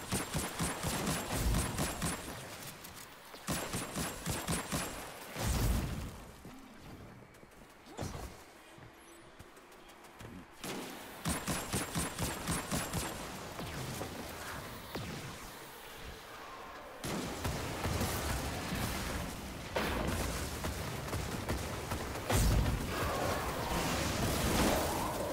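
Rapid bursts of weapon fire against enemies in the Destiny 2 Shattered Throne dungeon, with ranged guns firing in repeated volleys broken by short lulls, loud and continuous across the stretch.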